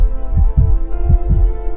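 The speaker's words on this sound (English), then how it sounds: "all you could hear was your heartbeat" A heartbeat thumps in close, muffled, low double beats, two lub-dub pairs repeating steadily over a faint hum.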